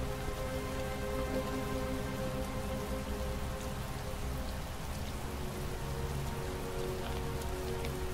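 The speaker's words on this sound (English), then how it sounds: "Heavy rain. It's been the same for weeks." Heavy rain in the video game Heavy Rain drums steadily on surfaces, a dense even hiss of falling water with a low hum beneath, unbroken and moderately loud with no voices.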